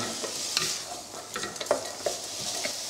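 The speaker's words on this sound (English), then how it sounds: "Now this has been frying for about a minute and a half" Vegetables for a lasagna sauce sizzle and crackle steadily in a hot pan, with occasional stirring scrapes and small pops.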